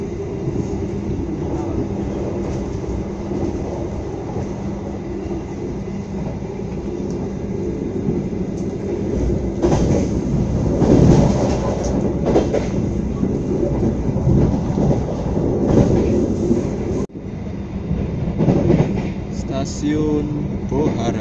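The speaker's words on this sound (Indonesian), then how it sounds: "Ada kereta api lokal, Pak." Interior rumble of the Sancaka passenger train running from Yogyakarta to Surabaya, a loud, steady low roar that swells with rattling and clatter midway, with some voices mixed in under the noise.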